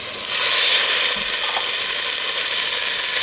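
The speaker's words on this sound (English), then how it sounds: "We're going to sear this for about 2 to 3 minutes" Beef for a pot roast searing in hot oil, giving a loud, steady, close sizzle that holds unbroken throughout with no voices.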